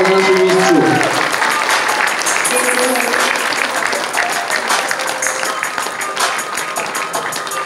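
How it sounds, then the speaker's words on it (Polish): An audience applauds at the final of a national sport dance competition in Maków Podhalański, with loud continuous clapping that begins under a brief announcement and then carries on steadily to the end. "Wielkie brawa na naszym miejscu."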